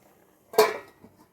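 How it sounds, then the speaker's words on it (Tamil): A single metallic clank as a lid is set onto a pot of quail gravy, ringing briefly before fading in a quiet room. "அதனால் சும்மா மூடி வைக்கிறேன்"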